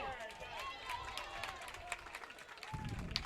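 Spectators clapping in the stands at a high school state playoff baseball game, a steady patter of applause amid crowd noise and cheering, with voices talking over it.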